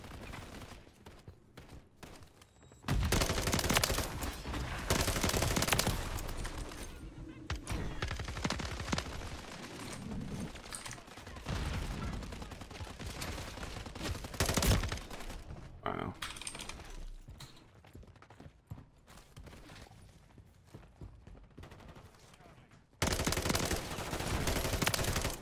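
SMG fire in Modern Warfare 3 comes in repeated bursts of rapid shots amid game noise, mostly at moderate level with a few quieter gaps, mixed with soft clicking like keyboard typing.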